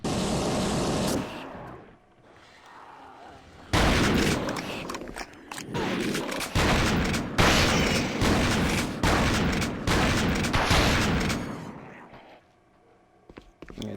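Grenade blast and bursts of gunfire from The Thing video game, loud and close, with booming hits and rapid shots in dense clusters, a quiet gap, then a sustained run of firing that fades near the end.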